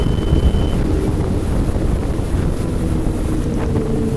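Twin Mercury Racing 500R V8 engines drone loudly and continuously on a racing boat underway, heavy wind noise buffeting the microphone throughout.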